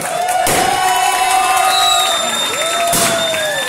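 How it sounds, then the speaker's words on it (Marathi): At a trophy unveiling during a cricket league auction event, a crowd cheers and shouts loudly throughout, with bursts of clapping and whistles rising over the din. "सर्वांनी जरा याच्यासाठी टाळ्या द्यायच्या आहेत."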